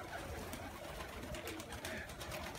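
Pigeons coo softly in a loft, their low murmuring faint and continuous beneath a steady hiss of background noise, with no talking.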